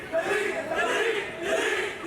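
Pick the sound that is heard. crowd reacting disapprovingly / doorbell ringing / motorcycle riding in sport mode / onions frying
crowd reacting disapprovingly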